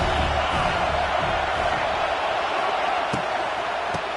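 Stadium crowd at a college football game, a steady loud roar filling the space with a broad wash of voices, a couple of sharp thuds cutting through near the end.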